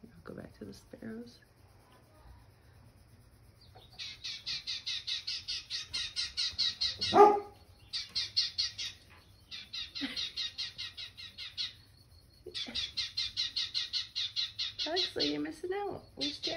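Sparrows chirping in rapid, busy bursts of bright twittering, several seconds long and separated by short pauses, fairly faint and near, with a brief sharper call in between.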